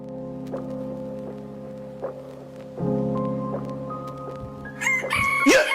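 A rooster crows loudly nearby, several calls rising and falling, with the last one louder and more strained, over a steady low hum.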